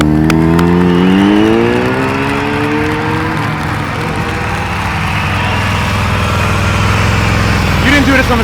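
A motorcycle engine hums and drones steadily during slow-speed riding practice, loud and close, with the pitch sagging and rising slightly as the rider holds it loaded.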